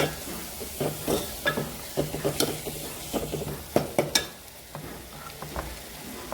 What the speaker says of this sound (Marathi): आता या फोडणीला तेल सुटेपर्यंत छान परतून घ्यायचं आहे.